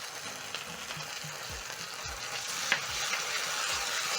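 Capsicum fries in a pan as sweet chili sauce is stirred in, a constant close sizzle with low scraping strokes of the spoon every half second or so.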